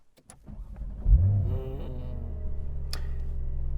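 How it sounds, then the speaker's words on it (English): A Porsche 911 Carrera S engine cranks and catches, then settles into a low, steady idle rumble with a few faint ticks and clicks. "when you start it up, it sounds like a car starting up"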